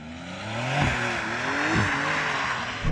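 Porsche 911 GTS driving to warm its tyres, engine droning steadily with rising and falling pitch and a couple of brief surges, close and fairly loud, no talking.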